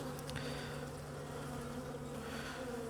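Honeybees in an open hive being split after failed checkerboarding, a steady, close, low droning buzz that carries on unbroken and alone.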